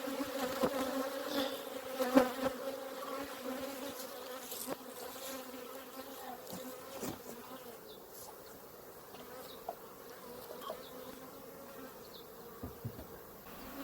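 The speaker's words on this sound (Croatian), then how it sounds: "Vidite, stara pčela se već vraća na svoje staro mjesto, ali u toj košci neće biti matica." Honeybees buzz around an old hive spot after a colony split, a steady close insect drone with individual bees passing near and away, no voices.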